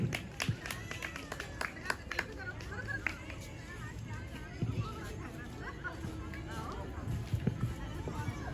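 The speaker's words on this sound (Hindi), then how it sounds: "इनके लिए तालियां बजा दीजिए" Scattered clapping from an open mic show audience, honouring a performer, sounds over steady crowd chatter and babble, with a few louder claps standing out near the start and end.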